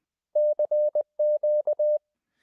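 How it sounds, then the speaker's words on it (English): Morse code tones beep out a clean, steady pitch in crisp dits and dahs, eight pulses grouped in two bursts, loud and alone against silence. "What you're left with is the dits and das of Morse code, still clearly conveying information."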